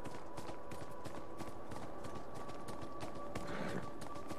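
Horse hooves in the video game Beyond: Two Souls clop along in a steady, even walking rhythm, soft and continuous against faint background ambience.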